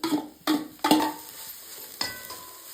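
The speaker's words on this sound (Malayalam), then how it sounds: "ഇനി അരിഞ്ഞു വെച്ച കൂമ്പ് ഇടുകയാണ്" Chopped banana flower goes into a pan and is stir-fried, giving a few sharp clattering scrapes and tosses spaced out over a couple of seconds, each followed by a brief sizzle, close by with no talk.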